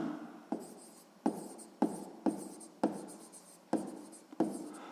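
A pen writes out a sixth-grade math solution on paper with steady scratching strokes, broken by sharp taps at regular intervals. It is close and alone, with no talking.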